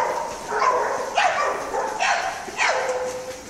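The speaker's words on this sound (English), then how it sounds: "That's his weird little bark." A dog gives several short, odd little barks or yips, about four in a row, fairly close and clear, with no talk over them.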